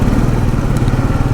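Royal Enfield Meteor 350 motorcycle making an unexplained noise, heard as a loud, steady engine rumble with a fast low thudding pulse and faint clatter throughout, up close with no talk.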